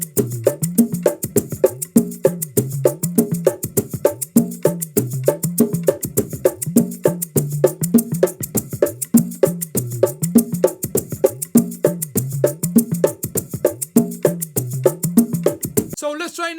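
Bongos played with the hands in a repeating tone, high, low, high pattern, a steady fast run of crisp slaps and open tones cycling evenly for about sixteen seconds, close and unaccompanied.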